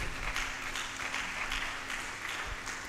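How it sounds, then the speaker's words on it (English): Applause from an audience at a science and technology fair, a steady wash of clapping from a crowd held at an even level for a few seconds with no voices over it. "I think he deserves a round of applause"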